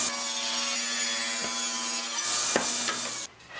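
A wooden 2x6 bench leg being sawn to width, with a steady rasping stroke that runs continuously for about three seconds before stopping abruptly.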